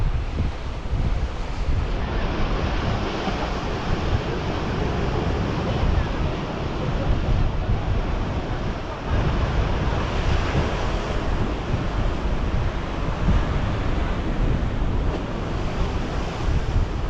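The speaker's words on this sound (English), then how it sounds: "It's a very, very choppy sea here this morning." Choppy sea at St. Paul's Bay, Malta, roars as a loud, continuous wash of surf, mixed with heavy wind buffeting the microphone and no clear breaks between waves.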